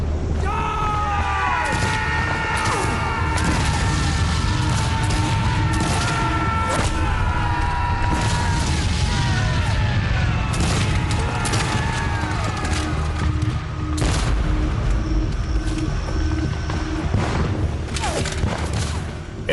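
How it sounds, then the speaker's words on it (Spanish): Rifle volleys crackle and boom continuously in a Civil War battle at Gettysburg along the Emmitsburg Road fence line, a dense loud barrage layered with sustained tonal music. "En una cerca que usan para protegerse reciben más de 800 disparos de rifle."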